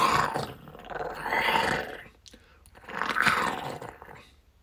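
A human voice imitates a lion roar with two drawn-out, breathy growling bursts, separated by a short pause.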